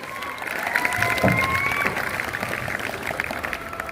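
Audience applause at a school orientation event, with a steady wash of clapping from a crowd that holds at an even level throughout, with a faint voice and a brief tone partly mixed in.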